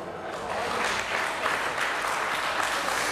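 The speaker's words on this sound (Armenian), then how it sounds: "Եկեք կրկին ջերմ ծափահարենք" Wedding guests clap in a steady, dense round of applause that carries at an even level throughout, with no distinct speech on top.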